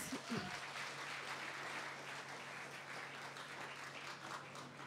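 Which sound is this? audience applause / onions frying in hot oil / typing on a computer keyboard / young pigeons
audience applause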